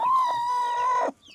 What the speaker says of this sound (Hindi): तो यहाँ पे हमने अंडे रखे हैं, यहाँ पे मुर्गी बैठी है